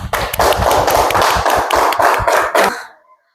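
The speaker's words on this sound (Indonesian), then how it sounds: "tepuk tangan bagi kelompok Abu Bakar." Classroom applause for a student group, a short burst of rhythmic hand clapping from a small crowd of pupils, close and loud, lasting about three seconds before stopping abruptly.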